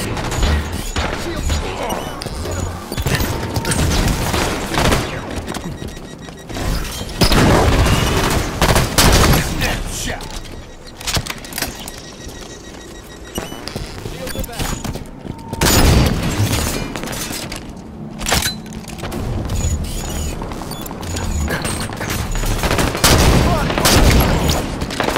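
Gunfire in the shooter Halo 5, with repeated automatic bursts, booming shots and explosions running almost continuously in a loud multiplayer firefight, with game voice callouts now and then.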